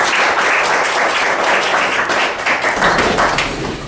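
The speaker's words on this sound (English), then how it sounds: "please, a round of applause for the two gentlemen" A county meeting audience applauds two county chair candidates, dense, close, steady clapping that holds for several seconds before tapering slightly at the end.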